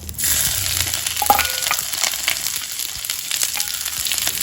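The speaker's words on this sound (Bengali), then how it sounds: "একটু ভাজা ভাজা করে নেবো" Ginger, whole cumin, a dried red chilli and bay leaf sizzle steadily in hot oil, a close, continuous crackling fry with small pops throughout and no voices.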